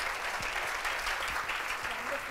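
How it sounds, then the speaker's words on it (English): Audience applause for a performer at the Sangam 2017 gathering, a steady dense round of clapping from a crowd, held at even loudness throughout with no pause. "Loud round of applause for our dearest Padma Shankar."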